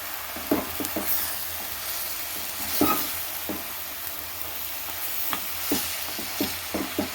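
Papaya thoran with curry leaves sizzling in a pan, a low frying hiss broken by sharp, scattered clicks and scrapes of a spoon stirring the mix at close range.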